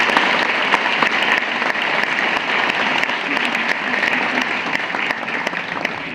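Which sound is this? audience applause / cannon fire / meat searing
audience applause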